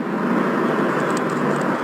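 A parrot imitates a car engine starting, making a loud, rough, broadband sputtering rumble that continues evenly for under two seconds, close and alone.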